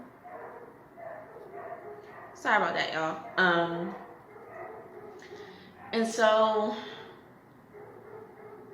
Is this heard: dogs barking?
yes